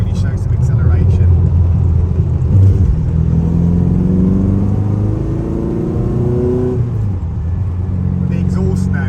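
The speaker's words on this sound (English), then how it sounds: "The exhaust note, so this has got twin stainless steel sports exhausts" A TVR Cerbera 4.5 with twin stainless steel sports exhausts pulls hard on a rural road, its engine note rising loud and close through the gears, with a voice talking over the roar.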